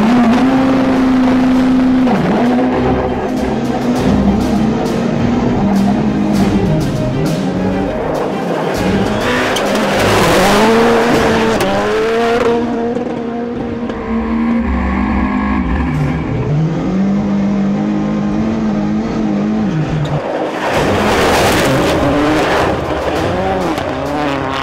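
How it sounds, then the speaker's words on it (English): A 600 hp four-wheel-drive rallycross supercar with a sequential gearbox and anti-lag launches and accelerates on a test day, its engine screaming loud and close through rapid gear changes, with crackling bursts and rising and falling revs. "Rallycross supercar? 600 horsepower, four-wheel drive, sequential gearbox, and does 0 to 60 in 2 seconds."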